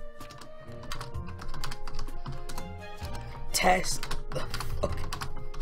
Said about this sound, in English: I'm gonna furiously type my way.